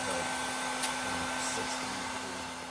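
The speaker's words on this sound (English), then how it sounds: "A cordless heat gun is a versatile tool capable of handling anything from stripping paint to thawing out frozen pipes or locks" A Bear cordless heat gun runs with a steady, close, airy blowing whir and a faint electric hum, holding even throughout with no talking.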